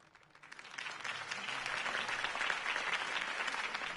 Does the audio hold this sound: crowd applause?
yes